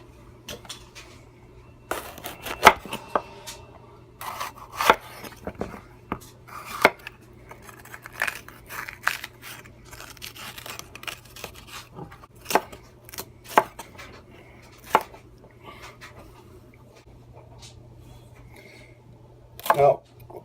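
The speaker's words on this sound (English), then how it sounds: "Just slice them up really nicely and evenly." Vegetables are chopped into small, even cubes with a knife on a board, giving irregular sharp taps and clusters of cuts separated by pauses, with a steady low hum underneath.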